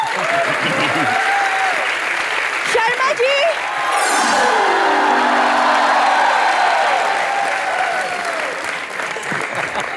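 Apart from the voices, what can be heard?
studio audience applause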